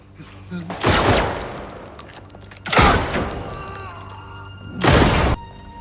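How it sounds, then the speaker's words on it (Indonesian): Movie gunfire tears into a gang during an action-film fight, three loud bursts of shooting with shattering impacts at roughly two-second intervals, close and harsh against a quieter backdrop. "tembakan brutal berdesing tepat ke posisi mereka"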